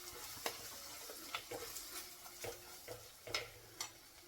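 Chilli powder and coriander powder frying in oil for a fish curry, a soft steady sizzle broken by repeated scraping stirs at a slow irregular rhythm, close and fairly quiet.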